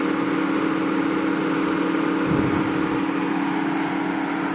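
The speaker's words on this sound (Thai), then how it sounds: "ปกติลงเทเลอร์นี่ไม่น่าจะเร่งเครื่องแรงขนาดนี้นะครับ" A vehicle engine coming off a trailer drones loudly and steadily at close range, with a brief surge in power partway through; no voices are heard.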